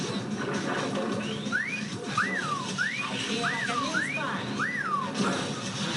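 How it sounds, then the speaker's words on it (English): Cartoonish wolf whistles from the SpongeBob SquarePants: Battle for Bikini Bottom video game ring out six times in a row, each a rising-then-falling whistle, clear over a soft game background. "You hear those wolf whistles?"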